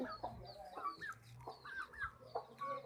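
Chickens cluck in a backyard farm pen. The clucks are close and come in a busy, irregular series of short calls with no one talking.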